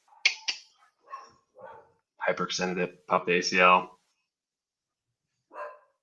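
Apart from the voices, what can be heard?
puppy dog barking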